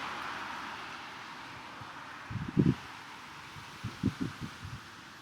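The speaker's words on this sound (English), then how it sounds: "it's very windy today." Low wind rumble and microphone buffeting in gusty bursts, with soft rustling beneath; no voices.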